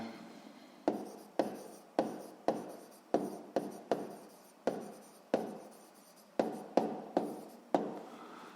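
Pen scratching on paper while working a sixth-grade math problem on rectangle area, in repeated short bursts of writing separated by brief pauses, close and fairly quiet with no talk.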